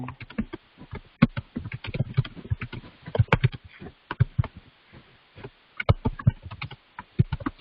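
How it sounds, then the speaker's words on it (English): Irregular bursts of typing on a computer keyboard, close and crisp, come in quick clusters of clicks separated by short pauses, with no voices. "Can you hear what I'm typing?"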